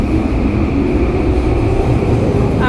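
A Vancouver SkyTrain pulling away from Production Way–University station, with a steady broad rumble of the rail car and a sustained whine throughout, close and loud, no talking.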